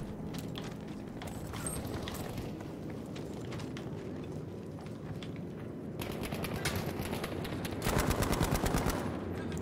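STEN submachine gun firing in the video game Battlefield 5, with dense rapid bursts over a busy battlefield din, growing louder toward the end with a fast, close stream of shots.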